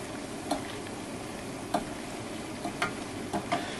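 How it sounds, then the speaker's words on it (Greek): A mixture stirred in a bowl or pot with a utensil, giving a few sparse, soft clicks and taps against the container over a steady, hissy background, quiet and unhurried. "ανακατεύουμε."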